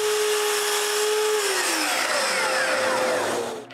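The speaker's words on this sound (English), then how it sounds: "To hold the camera in place, I need to cut a piece of wood at 15 degrees." A power saw cutting a piece of wood at a 15 degree angle, a loud continuous close whine that shifts pitch as the blade passes through, then trails off at the end, with no talk.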